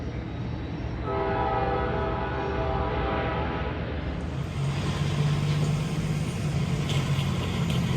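Capital Corridor passenger train headed for Sacramento, its horn blaring in a sustained chord over the continuous rolling rumble of the moving train, with the roar swelling louder toward the end.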